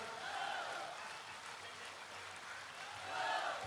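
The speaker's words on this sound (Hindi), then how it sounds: "साथियों अपनी तालियां जारी रखें" Sustained crowd applause at a Tipra Motha political mass gathering in Khumulwng, a dense even patter of many hands that swells louder near the end, with faint voices mixed in.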